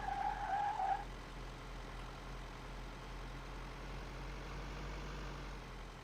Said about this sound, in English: Somebody mentioned that the truck sounds like a lawnmower.